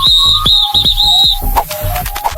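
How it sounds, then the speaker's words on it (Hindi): A captain blows a shrill whistle in a run of short, loud, chirping blasts, followed by quieter shifting tones with no voices. "सीटी बजाकर कैप्टन ने उसे दोबारा लाइन में लगा दिया"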